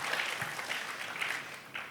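A church congregation applauding during a sermon, a dense wash of clapping from many hands that holds steady and close throughout, with a faint voice underneath.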